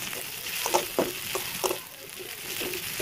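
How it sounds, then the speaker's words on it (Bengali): Chopped garlic and onion sizzle and fry in hot oil in a wok, with a steady crackle broken by several brief stirring scrapes, close and fairly loud, no voices. "ভালো করে তেলে রসুন আর পেঁয়াজগুলো ভেজে নেব"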